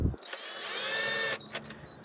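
A bolt being run in with a drill-type power tool on the water pump bracket of a Ford F150, a steady whirring burst of about a second, close and fairly loud, followed by a few short clicks.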